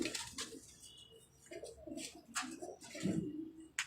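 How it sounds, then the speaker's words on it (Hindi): Golden pigeons coo in low, soft rolling calls at a moderate distance, with a few brief higher chirps and faint background noise, no talking. "ये जाते हैं ये कबूतर।"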